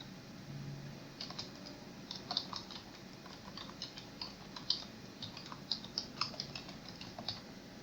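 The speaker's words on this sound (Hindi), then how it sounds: "अब ये मैंने टाइप कर दिया।" Quiet, irregular typing on a computer keyboard while a thumbnail image is made, with soft individual key clicks scattered steadily over several seconds and no voices.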